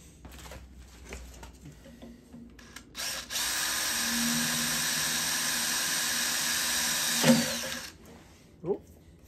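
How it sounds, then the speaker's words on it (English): A power drill bores a hole, a steady high whine running for several seconds after short bursts, then stopping with a sharp knock, close and loud. "Move it out of the way while I drill the other hole."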